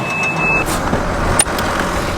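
A new truck's engine runs steadily outdoors, a broad continuous rumble with a brief faint whine early on and a short clunk midway, no voices.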